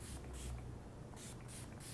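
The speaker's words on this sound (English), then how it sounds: "Finish the look with a little bit of Urban Decay spray." Urban Decay makeup setting spray misted from a pump bottle in a quick run of about five short, sharp hissing bursts, close and clear against a quiet room.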